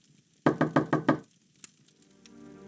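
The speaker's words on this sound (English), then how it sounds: "Can you answer the door, Kieran?" Knocking on a door in The Wheel of Time (1999) PC game: five firm, evenly spaced raps, close and loud, followed by a faint click and quiet room tone.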